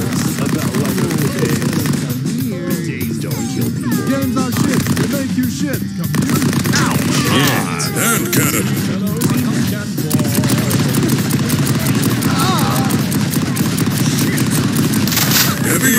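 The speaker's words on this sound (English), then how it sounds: "machine gun." Rapid, sustained machine gun fire from the battle royale video game POSTAL Royale, loud and continuous throughout, with dense overlapping shots and a faint voice underneath.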